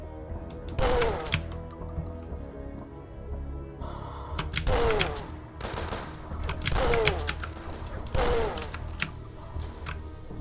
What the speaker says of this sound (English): there's like snipers or something, and I can't shoot them from this far away